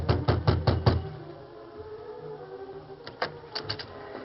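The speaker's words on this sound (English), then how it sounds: "Perry knocked on the door of the cabin." Knuckles rap on a wooden cabin door in a western radio drama: a quick burst of five knocks, a pause, then a looser second round of several knocks, close and sharp against a quiet room.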